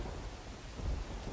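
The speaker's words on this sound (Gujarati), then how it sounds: "સવારે પણ વરસાદ યથાવત જોવા મળી રહ્યો છે" Heavy rain in Ahmedabad on a wet morning, a dense steady wash of rainfall with a low rumbling undertone, continuous and close for a brief moment.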